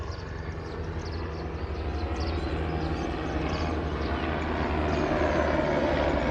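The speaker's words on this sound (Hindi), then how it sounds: "और हेलीकॉप्टर्स तो चल रहे हैं," Helicopters flying among the Yamunotri mountains on pilgrimage routes, a steady low rotor and engine drone that builds slowly from moderate to louder, heard alone without talking.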